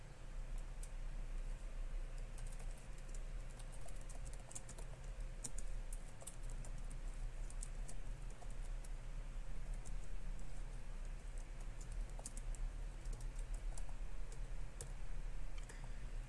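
Steady typing on a computer keyboard, a continuous run of quick light key clicks with no pauses, over a low hum and faint background noise.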